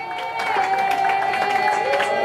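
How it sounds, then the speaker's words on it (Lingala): Church congregation at a joyful worship service cheering and applauding together, a dense, continuous wash of crowd noise and clapping with sustained music tones beneath, loud and steady throughout. "est-ce que nous pouvons acclamer pour l'honneur de notre Seigneur et Sauveur?"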